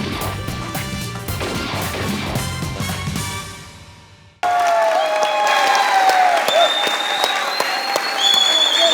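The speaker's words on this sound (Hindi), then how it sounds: "तालियां बजाइए।" Studio audience applause on a cricket talk show rises and fades out, then cuts abruptly to a loud, bright musical sting.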